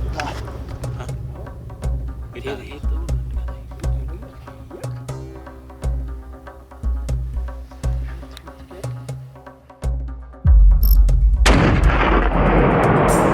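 A loud hunting-rifle gunshot at an ibex in Pakistan bursts out near the end, followed by a sustained roar, after a stretch of repeated thumping sounds.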